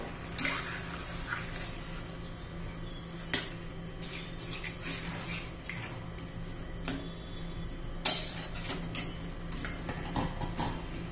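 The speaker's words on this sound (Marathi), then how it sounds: "आता एकजीव करून घेऊया, मिक्स करूया" Metal spoon stirring and mixing a garlicky chickpea-leaf vegetable dish in a pot, giving soft scraping and light clinks that repeat irregularly at moderate volume, with a few sharper knocks against the pot's side.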